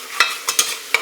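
Ginger paste and garlic stirred into onions in a hot pan, a soft continuous sizzle broken by four sharp scraping strokes of a spoon close by.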